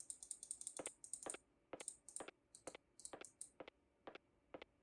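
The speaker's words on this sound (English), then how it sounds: "Just clicking at random keys here to see if..." Computer keyboard keys pressed at random while playing a retro horror game, heard as close, crisp clicks in quick irregular bursts with short pauses, alone with no talk.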